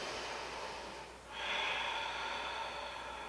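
During a barre workout, a single deep breath is drawn in and then pushed out through the nose. It sounds close, airy and a little snorty, with no talking.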